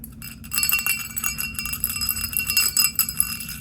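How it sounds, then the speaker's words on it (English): A steady jingling of a small sleigh bell rings on and off for several seconds, bright and close, with no voices. "Shall we see if the bell rings for everyone?"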